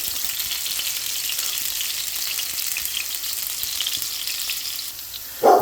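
Vegetables sizzle in a hot pan as they are sautéed for a Bacalla and sugo dish, a steady close frying hiss that continues alone with no talking and ends in a brief louder clatter.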